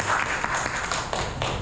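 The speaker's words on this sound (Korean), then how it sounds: "우리 저 박수로 한번 시작하도록 하겠습니다." Applause from attendees at an aviation security expert forum, a moderate burst of hand clapping in a room with a few sharper individual claps standing out through the short stretch.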